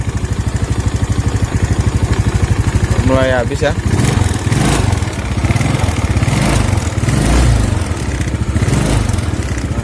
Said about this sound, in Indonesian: untuk sekarang udah hidup ya, cuma suara mesinnya agak kasar teman-teman